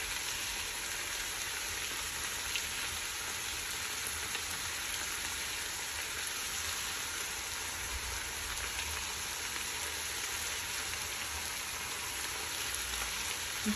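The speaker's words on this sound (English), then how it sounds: "Put the red onions in." Red onions frying in a pan make a steady, dense sizzle that runs unbroken and even throughout, close and moderately loud, with no talking over it.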